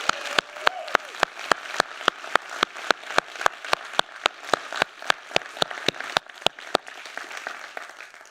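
Crowd applause at a downtown business forum, crisp dense clapping from a nearby audience with loud sharp individual claps standing out in a regular pattern, fading slightly near the end.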